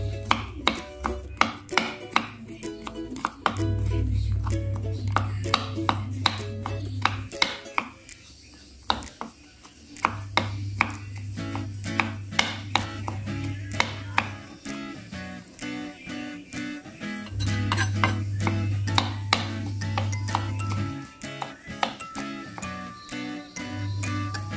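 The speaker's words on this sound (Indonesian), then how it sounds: "Cincang kecil bawang putihnya guys." A knife finely chops garlic on a cutting board in rapid, sharp, rhythmic taps, with bursts of quick strikes broken by short pauses and a low hum in the background.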